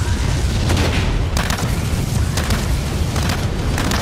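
A mech explodes in the game Blacklight: Retribution, a loud, continuous booming roar with rumbling low end and scattered crackling bursts throughout, no voices.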